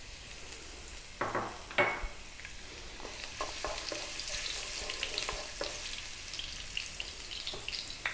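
Ginger sizzling in a hot pan for crispy Chinese garlic fish, a continuous bright frying hiss with a few sharp clicks and pan knocks, moderately loud and near, no voices.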